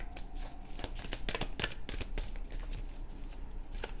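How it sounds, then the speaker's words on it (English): Close, steady riffling and slapping of a deck of tarot cards being shuffled, a dense run of quick papery flicks with no talking. "I'm gonna shuffle them one more time."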